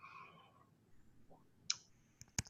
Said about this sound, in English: I can hear somebody typing away